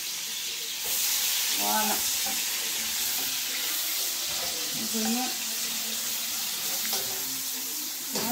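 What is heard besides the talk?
onions frying in oil in a pan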